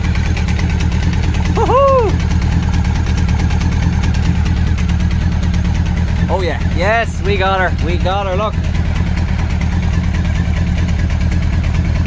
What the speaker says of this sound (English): I'm gonna turn the engine off before I blow the place to bits